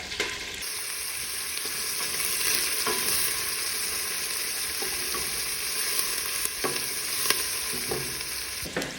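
Onions fry in a large pot with a steady soft sizzle, while occasional utensil scrapes and knocks from stirring come through at moderate volume with no voices.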